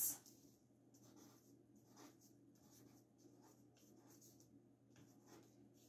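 A pen writes on a sheet of paper in a short bursts of scratchy strokes, with brief pauses between words. It is close, quiet and isolated, with no speech.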